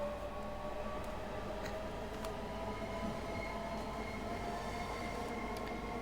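Rumbling rail noise of a London Overground Class 465 electric train accelerating past a platform end in Train Sim World 2, a steady dense drone with faint tonal motor whine and occasional light clicks, heard alone.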